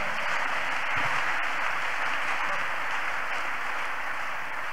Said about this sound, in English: Just praise clap the Lord.